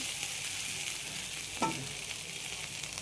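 Dry red chillies, nigella seeds and panch phoron sizzling in hot mustard oil, a close, even crackle with one short metallic clink partway through.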